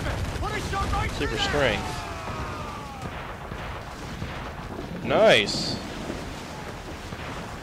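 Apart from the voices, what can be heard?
ship cannon fire in Assassin's Creed IV video game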